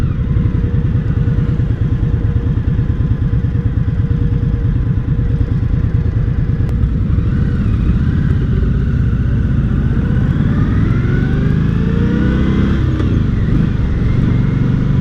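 Engine of an Indian Scout 60 motorcycle rumbling loud and steady while downshifting on a ride, the pitch slipping and then shifting over the last few seconds, with constant road and wind noise.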